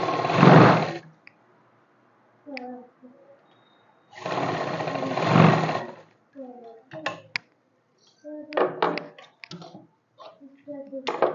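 A sewing machine stitches a kurti sleeve in two long loud runs separated by quieter clicks and short bursts, while someone talks between the runs.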